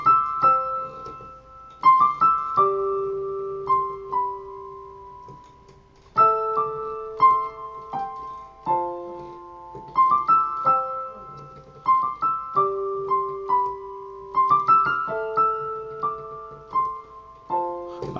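Solo piano plays the chorus of a pop song, a lesson-style performance with a sustained melody over held chords in repeating phrases, clear and close with no talking.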